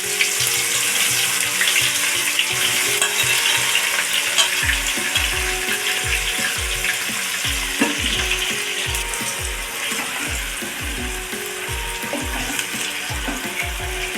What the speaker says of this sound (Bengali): দেখুন পেঁয়াজটা আমার লাল লাল করে কিন্তু ভাজা হয়ে গেছে।